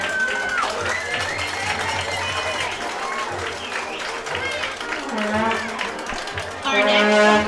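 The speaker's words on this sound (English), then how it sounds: "Please give a round of applause for homecoming court member Macy Gilliland" Crowd applause and cheering for a homecoming court member at a Post vs. Seagraves football game, sustained and fairly loud throughout, with an announcer's voice and music mixed in over the clapping.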